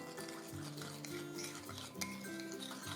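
A spoon stirs flour into lemon water in a bowl as a sauce for olive-oil braised artichokes, giving soft, close scraping and light clinks against the bowl in a quiet kitchen, with no talking.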